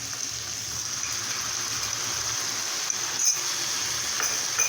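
Soaked paste of cumin, Kashmiri chili powder and turmeric sizzles steadily in a pan while a Bengali fish curry is cooked, a dense, even hiss running throughout with a brief flare near the end and no talk.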